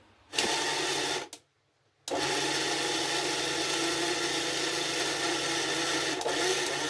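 A mixer grinder whirs as it grinds niger seed chutney, a loud steady motor drone. It cuts out briefly near the start, then restarts and runs on without a break.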